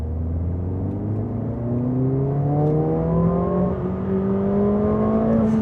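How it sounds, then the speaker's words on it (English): A 2024 Mercedes-AMG CLA 45 S in race mode accelerates hard, its exhaust roaring loudly and steadily as the engine note climbs through the revs without a break, with no talking over it. "you could hear the exhaust just absolutely blasting its freaking face off"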